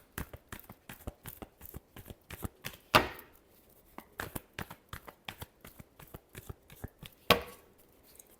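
Tarot cards being shuffled by hand, a quick run of soft close riffles and taps with two sharper snaps, faint and steady with no talking.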